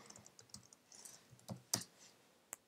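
Someone types on a computer keyboard while writing CSS code, with a quick, irregular run of soft key taps and a few louder clacks, close and faint, with no talk.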